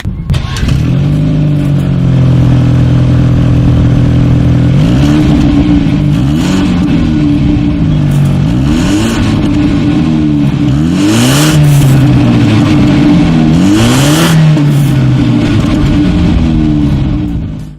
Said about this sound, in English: So, as always, you guys, here is that exhaust clip